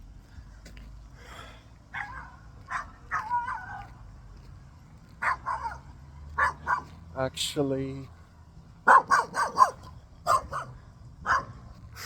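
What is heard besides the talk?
small dog barking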